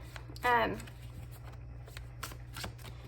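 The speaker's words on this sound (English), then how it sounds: "Just want to go ahead and shuffle a little more." A tarot deck being shuffled close by, with quick soft card flicks and riffles over a steady low hum, plus a short tonal vocal sound near the start.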